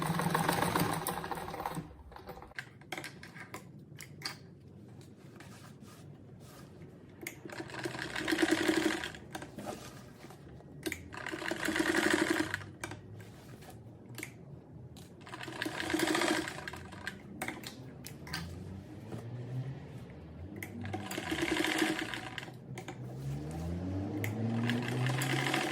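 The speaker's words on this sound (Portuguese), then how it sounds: "Fazer umas 2 costuras pra ficar bem forte." A sewing machine stitches apron straps in repeated bursts of fast mechanical whirring, several runs separated by pauses with quieter handling sounds, close by.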